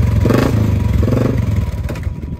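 A petrol motorcycle engine rumbles close by, revving up in short surges with some mechanical clatter.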